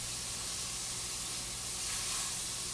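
Marbled slider patties sizzling in a hot skillet, a loud, constant hiss of frying fat that fills the whole moment without pause or talk.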